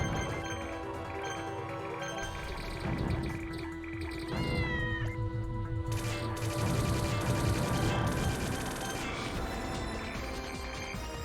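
A cat meows repeatedly in Castle Shikigami 2, mixed in with the shooter's dense music and electronic game effects, with a rising warble in the middle.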